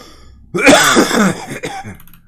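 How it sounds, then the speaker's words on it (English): A burst of harsh, raspy coughing up close, several rough hacks run together, then a quieter throat-clearing cough trailing off. "Can't stop coughing."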